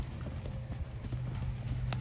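Hooves of a young mare in her first vaquejada training, being taught to leave the starting gate, clip-clop in a quick, uneven rhythm at a fairly faint, distant level.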